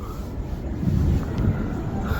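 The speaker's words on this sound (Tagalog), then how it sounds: "Saka lakas ng hangin, ang sarap." Strong coastal wind at Bolinao, Pangasinan, roaring steadily into the microphone as a constant low rumble throughout, with no voices heard.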